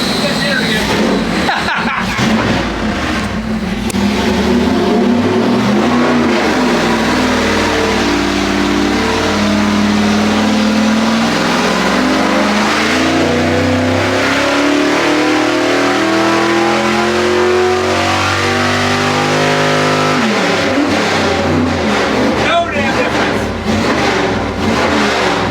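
A 383 small-block Chevy engine on a dyno running 87 octane, roaring through a long pull as the revs climb steadily before cutting back near the end, with voices speaking under the loud engine.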